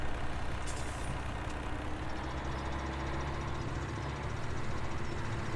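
Diesel farm truck idling in Farming Simulator 17, a steady low engine drone running alone, with a short air-brake hiss near the start.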